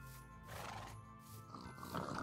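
Horse neighing in the Minecraft video game, a faint drawn-out whinny with wavering harmonic tones and no speech over it.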